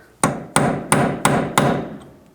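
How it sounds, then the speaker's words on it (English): Five sharp metallic hammer strikes on a punch against the rear axle nut of a 2007-11 Honda CR-V ring out at a steady pace, each blow loud and close with a brief ringing decay. "So take a punch or a chisel. You just get in here, try to hammer it back"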